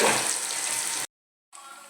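Cumin and mustard seeds sizzle in hot oil for a tempering, a loud bright crackling hiss that cuts off briefly and resumes slightly quieter.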